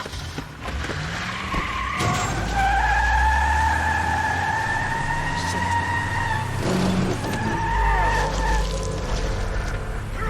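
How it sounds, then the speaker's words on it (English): Cars in a video game car chase, tires squealing in long skids over rumbling engines, loud and near, with someone talking over it. "Oh, it's a car chase."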